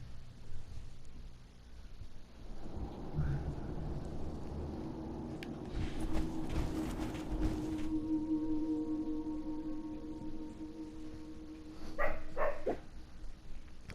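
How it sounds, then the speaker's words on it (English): A dog barks and whimpers in the game Fallout 4, short yelps rising over a steady low ambient hum, moderately loud, with a few sharper cries near the end. "Stop barking."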